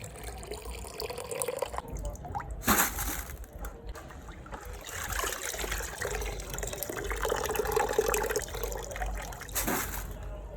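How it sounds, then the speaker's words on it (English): Washed grains for pap (akamu/ogi) are scooped out of water with continuous close sloshing and trickling splashes, a few sharper scoops standing out over the steady watery noise. "Gently, I'll scoop out the grains from the water until everything is finished."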